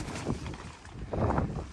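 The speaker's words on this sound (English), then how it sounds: "Flipping heck, it's windy, I say." Strong gusty wind sweeps across a campsite, roaring as broad buffeting bursts against the microphone that rise and fall.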